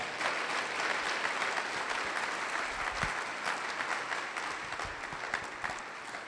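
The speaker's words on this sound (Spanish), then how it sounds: "Dele un aplauso al Señor, por favor." A church congregation applauds during a Spanish-language Sunday morning service, a dense, even round of clapping that fills the room and holds steady, tapering slightly toward the end.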